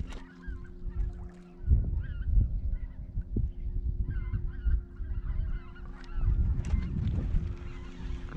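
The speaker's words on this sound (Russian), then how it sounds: "Гуси летят." Many geese honking overhead, a flock calling repeatedly at moderate distance over a low wind-like rumble, beside the Amur River.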